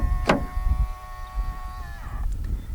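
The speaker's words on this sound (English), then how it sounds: "To lock the car, press the ribbed area on any of the front door handles." A Peugeot 5008 locks keylessly from a front door handle, giving a short electronic chime with steady tones and a brief mechanical click near the end, heard close up in quiet surroundings.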